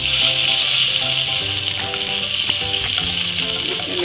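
Butter melts and sizzles in a pan for white sauce pasta, a steady bright frying hiss with faint stirring scrapes underneath.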